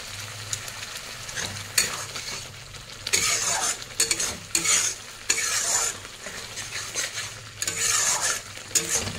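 A spice masala of ground black pepper and garam masala is stir-fried in a pan, giving steady sizzling with repeated scraping strokes of a spatula against the metal, close and fairly loud.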